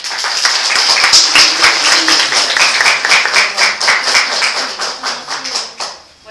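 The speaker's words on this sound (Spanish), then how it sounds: "Les pido un aplauso y los dejo con él" An audience at a medical lecture applauds a rheumatologist as he is introduced. Loud, crisp clapping from a modest crowd holds steady, then tapers and stops near the end.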